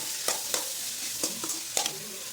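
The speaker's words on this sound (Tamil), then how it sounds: "குழம்பு தூள் ஆட் பண்ணிக்கலாம். நல்லா மிக்ஸ் பண்ணி நல்லா வதக்குங்க." A spoon stirs and sautés tomato with chili powder and kuzhambu masala in oil for brinjal kuzhambu, giving several distinct scraping clicks over a steady soft sizzle, close and moderately loud, with no talking.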